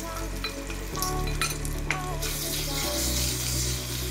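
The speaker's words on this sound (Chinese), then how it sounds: "蒜头爆香后就可以放肉碎下去炒。" Minced pork hits hot oil with fried garlic in a wok, and a loud, continuous sizzle swells as the meat is stirred, with metallic scraping and clinks along the way.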